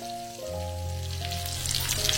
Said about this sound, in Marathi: तर आता आपली ही कुप्पा मासा एकदम मस्त फ्राय झालेला आहे